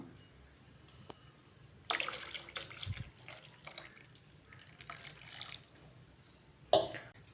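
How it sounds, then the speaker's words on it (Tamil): Water splashes and pours in uneven bursts into a pot, with a few drips and a sharp clink near the end, close by. "நமக்கு இப்போ தேவையான அளவு தண்ணியும் ஊற்றிக்கலாம்"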